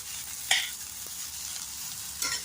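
Colorful mixed vegetables sautéing in a pan for a basmati rice dish, a steady soft sizzle with two brief louder stirring scrapes, no voices.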